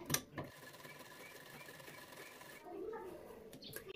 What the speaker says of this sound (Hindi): इस पर मिलाते हुए सिलाई लगाएंगे गले की साइड में